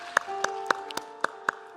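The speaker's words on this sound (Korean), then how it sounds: "서로에게 격려의 박수 하겠습니다" Church congregation clapping in rhythm during a Sunday worship service, six sharp, evenly spaced claps sounding together over a sustained music backdrop.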